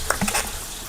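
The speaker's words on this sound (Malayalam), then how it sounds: "അതിനുശേഷം ചട്ടി ചൂടായതുകൊണ്ട് എണ്ണ ഒഴിക്കട്ടെ കേട്ടോ." Coconut oil poured into a hot pan gives a brief burst of sizzling and spitting that settles into a soft, steady hiss, heard up close.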